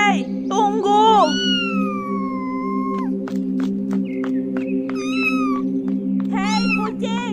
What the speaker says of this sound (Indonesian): Loh, kok ada kucing?